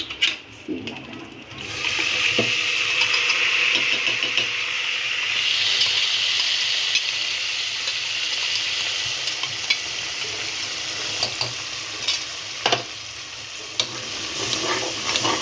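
Onions frying in a pan as masala is added and stirred: a continuous sizzle with clinks and scrapes of the spoon against the pan, and a voice in the background at times.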